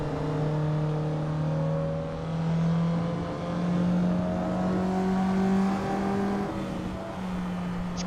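A car engine in a racing video game holds a steady droning hum with slow, gentle swells in pitch, loud and continuous, as though cruising and lightly revving.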